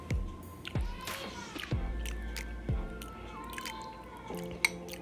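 Someone chews a mouthful of red pea stew with pigtails and yucca up close, with soft wet bites and squishy chewing, faint tonal background sounds, and no talking.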